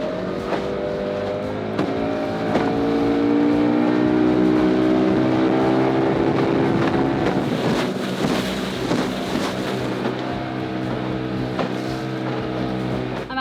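A small, lightweight dinghy driven by a 15 horsepower outboard motor, its steady drone running continuously up close with wind buffeting the microphone and water rushing alongside.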